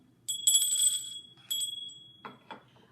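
A bright, ringing bell chime sounds twice in quick succession, clear and close, followed by a few soft clicks.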